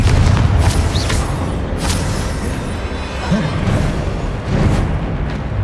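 Confringo blasting-spell explosions in the video game Hogwarts Legacy, heavy booming bursts with a dense low rumble that repeat over constant combat noise and are fairly loud and close.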